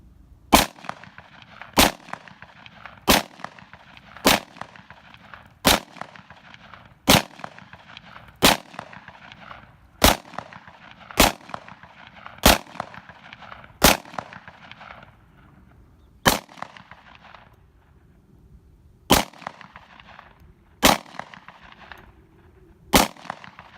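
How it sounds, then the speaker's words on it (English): A Springfield XDM 10mm pistol fires hollow-point rounds at pumpkins outdoors: about eighteen loud, sharp, close shots in an even rhythm of roughly one every second and a half, with a few longer gaps near the end. "Wow, that is a lot of fun to shoot."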